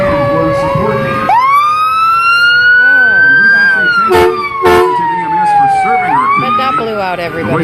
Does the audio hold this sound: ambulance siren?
yes